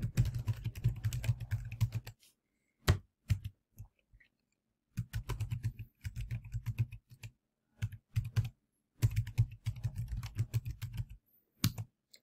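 Bursts of close computer keyboard typing with clicky keystrokes, stopping and restarting several times with silent gaps, as a school password is entered.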